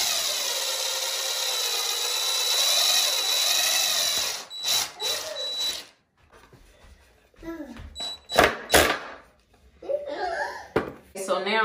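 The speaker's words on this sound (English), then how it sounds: "what we're about to do is countersink the hole" A power drill countersinks a hole in a wooden board, a loud steady whine for about four seconds, followed by clattering handling noises and brief talk.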